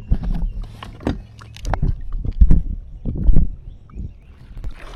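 Canoe paddling downriver on calm water, with irregular soft splashes and knocks from the paddle and hull sounding close, under light wind and no talk.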